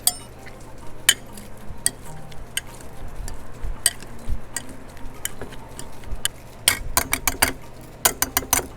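Beside grilled steaks, a potato masher works softened butter, sour cream and chives into sweet potatoes in a bowl, making repeated close squelches, scrapes and knocks that speed into a quick flurry near the end, with no voices.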